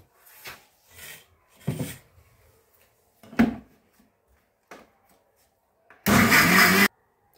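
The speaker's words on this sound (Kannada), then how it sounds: "ಮಿಕ್ಸಿನಲ್ಲಿ ತೆಗೆಯೋಣ ಬೆಣ್ಣೆ." A kitchen mixer grinder churns cream into homemade butter in short, rough pulses, ending in one loud, sustained whirring burst nearby.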